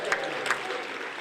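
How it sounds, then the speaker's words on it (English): An audience at a BrightonSEO 2014 conference session claps and cheers at fairly low level, a spread of scattered applause with a couple of brief louder cheering bursts rising over the crowd. "A cheer for the hat."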